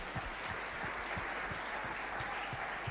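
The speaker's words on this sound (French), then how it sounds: "Nous acclamons le Seigneur." A church congregation claps steadily in unison, a near continuous patter of hands with a regular beat, moderately loud, under a wash of room noise.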